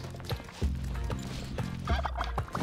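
A turkey gobbles repeatedly in Spelunky 2, several loud rattling gobble bursts in quick succession over a steady game background, with no speech.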